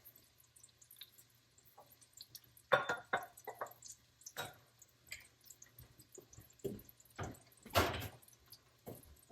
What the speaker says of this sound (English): I'm going to go ahead and start juicing these lemons